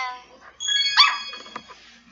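Puppy barking in the Nintendogs + Cats video game: a few short, bright yips and barks near the middle, close and moderately loud over a quiet background.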